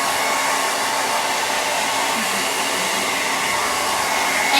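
A hair dryer runs steadily and loudly throughout, blowing on a freshly painted floral cross door hanger to dry the paint, a continuous broadband whoosh with no pauses and no voices.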